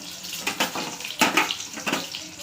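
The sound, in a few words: eggs frying in oil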